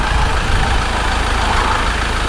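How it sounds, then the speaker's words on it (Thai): A four-door automatic pickup truck engine idles smoothly and evenly up close, a steady low rumble with no knocking, and no one speaks. "เครื่องยนต์นี่คือแบบ เดินเรียบๆนิ่มๆแบบนี้เลยนะครับ"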